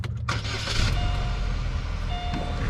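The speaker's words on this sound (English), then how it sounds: "let me start this thing up for y'all can hear it crank right up" A Pontiac G6 cranks briefly and catches, the engine settling into a steady close idle with a faint whine over the running motor.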